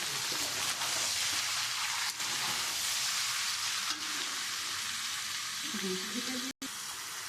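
Capsicum, carrot and beans stir-fried in ghee for mixed rice, a soft steady sizzle with faint stirring knocks and a brief tonal murmur near the end.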